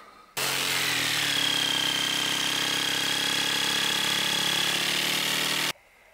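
Power saw cutting wood for a compost toilet seat, one continuous loud whining buzz running for about five seconds with a sudden start and stop, nearby and with no voices.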